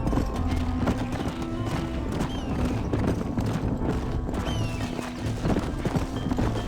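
Several horses clop their hooves and whinny close by in the game Red Dead Redemption, a busy, continuous patter of steps around a pen with neighs rising over it.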